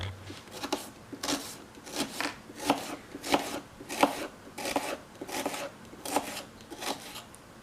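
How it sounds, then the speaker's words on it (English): Two onions being chopped with a knife on a board, about a dozen crisp, evenly paced cuts close to the microphone, with no talking. "We're going to cut up 2 onions."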